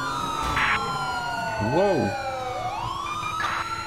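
Police car sirens from a 2016 Ford Taurus patrol unit with Whelen Liberty lights in GTA5 wail loudly and continuously, sweeping up and down, with a brief exclaimed voice over them.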